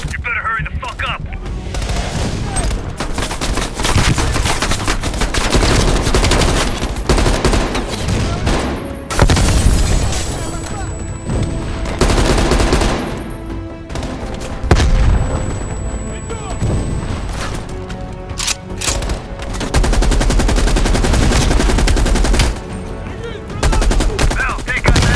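Loud, sustained gunfire and booming battle noise from a Call of Duty: Black Ops Cold War mission, with machine gun bursts and explosions running almost continuously, while voices talk over the combat.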